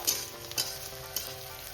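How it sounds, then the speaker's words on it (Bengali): Onions frying in a pan for a tarka give a steady close sizzle, broken by a few brief stirring scrapes and clinks, with no voices. "দেখো পেঁয়াজটা কিন্তু একটু ভাজা হয়ে গেছে।"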